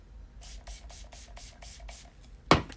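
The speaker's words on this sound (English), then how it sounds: "when you spray your brush and swirl it around like this" A makeup brush being sprayed and swirled in cleaner makes a quick run of about seven soft, even, rhythmic brushing strokes, close and quiet, followed by a single sharp click.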